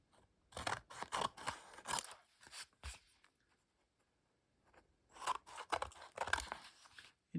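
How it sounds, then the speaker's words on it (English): Scissors snip through paper that is still slightly damp, in two clusters of quick crisp cuts separated by a quiet pause, close up with no talking. "I will cut these clean, even though the papers aren't quite dry yet"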